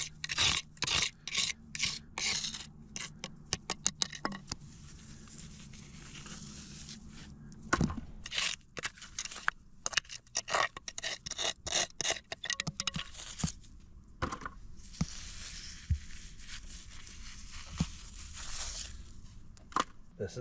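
A hand tool scrapes and rasps material off rock while prospecting on a gold claim, quick rhythmic strokes in bursts with pauses, close and fairly loud, with someone talking in between.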